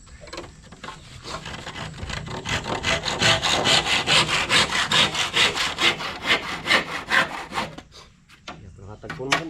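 A hand saw cuts through wood in fast, rhythmic back-and-forth strokes, loud and close, with a short pause near the end before one final stroke.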